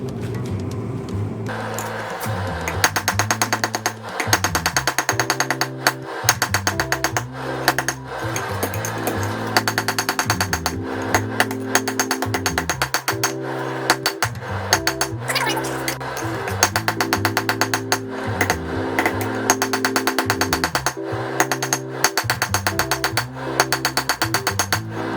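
A hammer planishes a dark red hot railroad spike being forged into tongs, ringing blows striking in quick repeated bursts with short pauses between runs, loud and close, no talking.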